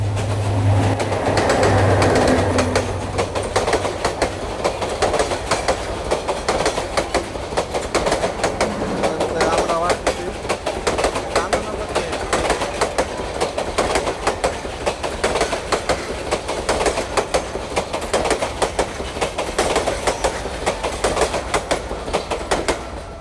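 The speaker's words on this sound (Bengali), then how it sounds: "ট্রেন অলরেডি খুব কাছাকাছি ট্রেন আসতেছে" A train rolls closer and passes a river crossing on the Kaoraid to Moshakhali line, its steady clickety-clack of wheels on rail joints filling the air for over twenty seconds as it goes by.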